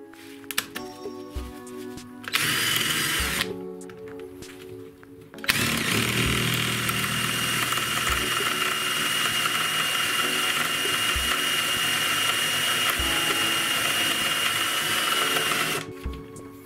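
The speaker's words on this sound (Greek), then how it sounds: "Ξετρύπησε. Τριάρι τρυπάνι." An electric drill runs with a 3 mm bit, boring through the metal shaft of an old office chair, in short starts and then one long, loud continuous run of grinding, whirring drilling.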